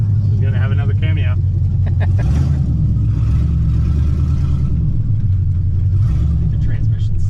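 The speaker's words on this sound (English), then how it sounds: "The transmission slipped a little bit." A mid-engine 1963 Corvair 95 with a slipping transmission drives past, giving a loud, close engine rumble with rising and falling revs, and people talk over it throughout.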